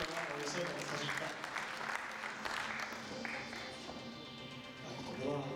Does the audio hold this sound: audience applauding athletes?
yes